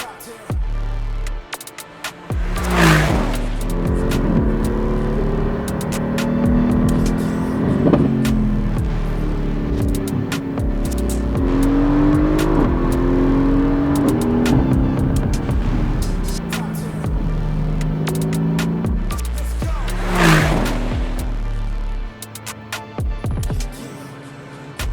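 A widebody Mercedes-AMG GT driving on a race track after overnight rain, its engine note rising and falling with gear changes across the lap, loud and close as heard from inside the car, with no talk.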